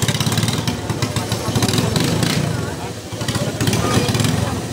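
A racing banca boat engine at a Bancathon race is started and runs loudly with a buzzing, throbbing drone, continuous and close, while an announcer talks excitedly over it.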